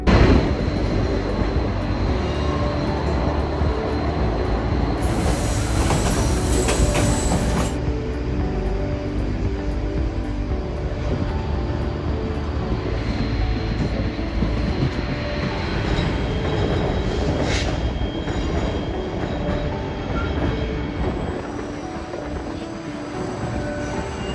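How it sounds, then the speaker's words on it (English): Continuous rumble and rattle of a moving White Pass train carriage in Alaska, with steady wheel-on-track noise and occasional higher squeals throughout. "take a ride on the White Pass train"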